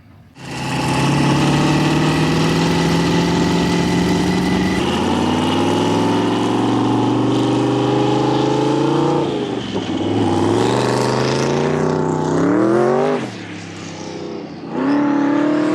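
A loud Funco sand car engine at the Glamis Sand Dunes idles roughly, then revs repeatedly in rising and falling bursts, close up and alone, with a brief dip before it picks up again.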